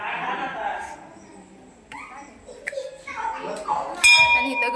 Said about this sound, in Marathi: आणि इथं घंटी.